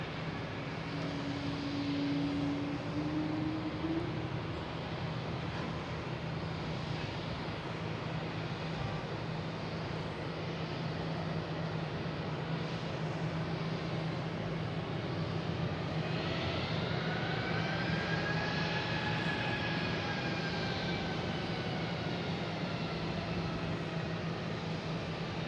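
An airliner taxiing at Boston Logan International Airport, a steady distant jet engine hum and rumble that holds through the whole stretch, with a rising whine near the end and no voices.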